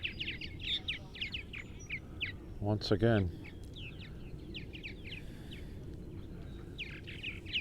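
Purple martins chirp and twitter steadily around their nest cavities on a summer evening, a busy chorus of high, quick calls with a brief spoken voice partway through.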